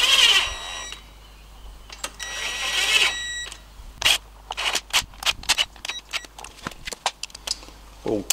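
A pneumatic impact wrench runs down the wheel nuts on an FJ45 Land Cruiser during a disc brake conversion, firing in short, loud rattling bursts with pauses between them, close by, and no talk over it.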